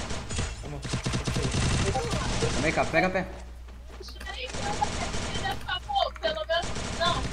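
Rapid gunfire bursts from the Free Fire battle-royale game in a 4v4 wager match, dense and loud throughout, layered under excited players talking over voice chat.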